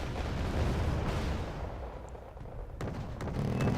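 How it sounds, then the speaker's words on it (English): Tunguska anti-air guns firing on a Seahawk helicopter in the war game Wargame Red Dragon: a dense, continuous rumble of heavy gunfire and blasts, with sharper crackling bursts near the end. "Tunguska firing on a Seahawk."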